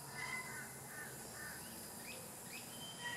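Birds call from the trees and flowering plants of a front yard, with a few short chirps and whistles over steady outdoor background noise, moderately distant and fairly faint.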